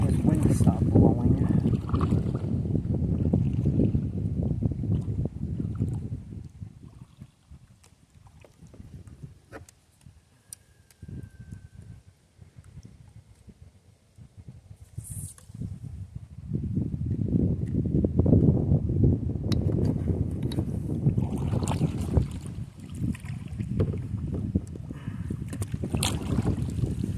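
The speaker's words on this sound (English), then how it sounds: "Gotta wait for this wind to stop blowing." Gusty wind buffets the microphone outdoors in loud, roaring bursts, easing for a few seconds midway before picking up strongly again, with occasional faint voices in the background.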